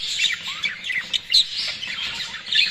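Pet birds squawk and chirp after mating on the floor, with repeated bright, scratchy calls close by and a few sharper peaks through the stretch, with no talking over them.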